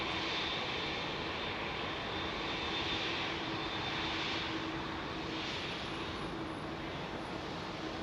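Singapore Airlines Airbus A380 engines roar steadily and loudly near London Heathrow, a continuous broadband jet rumble with a faint high whine, holding constant throughout without talk.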